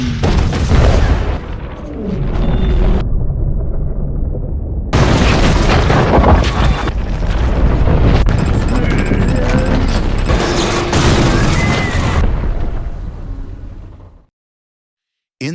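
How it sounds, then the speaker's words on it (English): A massive explosion booms through a city area as a nearby building collapses onto a broadcast headquarters, loud sustained roaring and crashing debris in several bursts with brief near-silent gaps before cutting off. "a massive explosion tears through the area, causing a nearby building to collapse directly onto the SNC headquarters."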